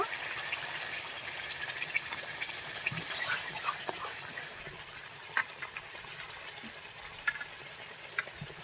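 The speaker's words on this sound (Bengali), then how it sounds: "অল্প করে একটু জল দেব" Water poured into a cooking pan of egg curry, a soft steady gush and hiss with a few small clinks of utensils, fairly quiet and close, no voices.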